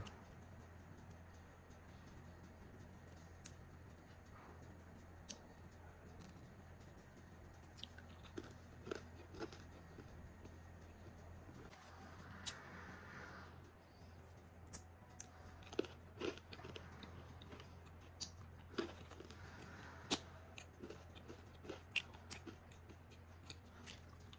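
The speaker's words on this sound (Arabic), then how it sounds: "أكيد سمعتوا القرمشة كيف جدا لذيذ" Repeated crisp crunching of salty biscuits being chewed close up, irregular bites scattered over a quiet background.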